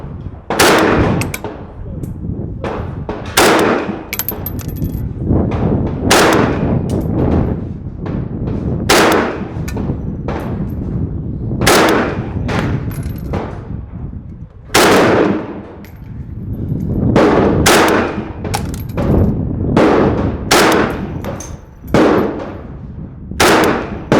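A PA30 air rifle, braced on a bipod at a shooting bench, fires slugs at a target with about twenty sharp, loud cracks in an irregular but steady rhythm.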